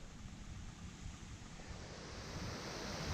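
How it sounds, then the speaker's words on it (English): Steady outdoor wind roars and buffets the microphone in a dense, unbroken rush that swells slightly toward the end, loud and close with no voices. "if you can hear me under this wind"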